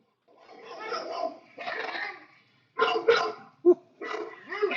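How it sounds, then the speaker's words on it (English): Several loud dog barks in bursts, some close and sharp, heard while a blender runs in the background, with short silent gaps between the bark clusters. "We gotta have some dogs barking here"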